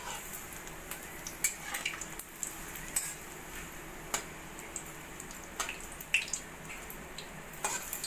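Spring rolls frying in hot oil in a kadai, a moderate bubbling sizzle with scattered sharp pops and light clinks as they are turned, no voices.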